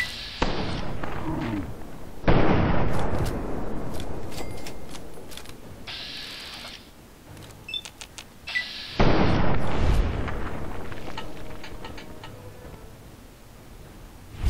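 Combat shotgun blasts in Fallout 3 arrive as two loud booming shots several seconds apart, each trailing off into a long decay, with sharp ticking clicks and lighter impacts in between.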